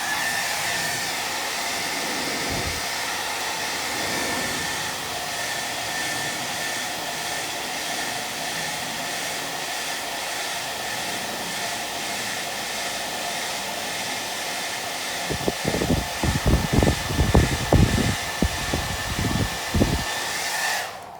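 A hair dryer blows hot air onto old window tint, a steady loud broadband whoosh throughout, with a cluster of close handling knocks and scrapes near the end.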